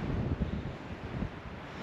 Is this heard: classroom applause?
no